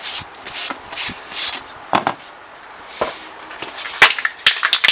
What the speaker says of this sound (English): I'll just give him a wipe down with a tack rag